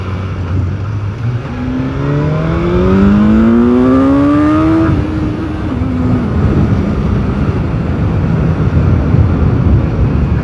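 A BMW S1000R motorcycle accelerates hard, its engine note rising steeply in pitch through a few seconds before a gear change, then settling into a loud, steady roar with wind noise.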